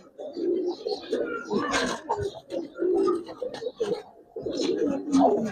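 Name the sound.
Giribaz pigeons cooing in a loft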